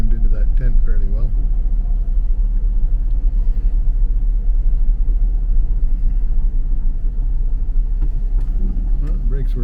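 A 1982 air-cooled VW Vanagon Westfalia drives along with a steady, close engine rumble throughout, and someone talks over it.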